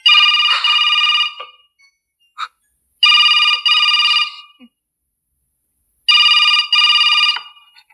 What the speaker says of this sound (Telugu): మహాలక్ష్మి, నీకే ఫోన్.